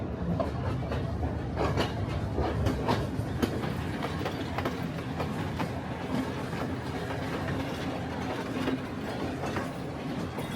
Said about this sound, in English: We are traveling on the unreserved train, which is meant for regular tourists.